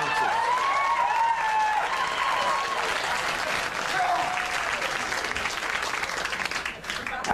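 A studio audience on a late-night comedy show cheers and applauds loudly and steadily, with whoops and shouts riding over dense clapping that runs the whole time and thins slightly near the end.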